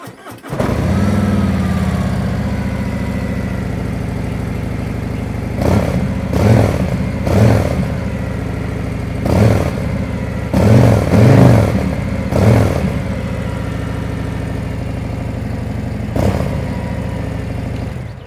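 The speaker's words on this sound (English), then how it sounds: "So I'm going to start the bike up and let's hear how this one sounds." A stock 2024 Harley-Davidson Road Glide with an aftermarket exhaust baffle cranks over and settles into a steady, deep idle, broken by a handful of throttle blips, loud and close.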